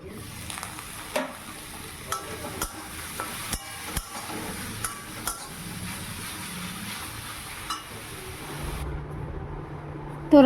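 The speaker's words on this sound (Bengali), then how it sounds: "ওই কড়াইতেই একটু তেল দিয়ে শুকনো লঙ্কা আর কালো জিরে ফোড়ন দিয়ে কমলি শাক ভাজা করব" Kamli greens fry in oil in a wok with dried red chilli and nigella seeds. A steady low sizzle runs throughout, broken by repeated sharp taps and scrapes of a spatula at irregular intervals.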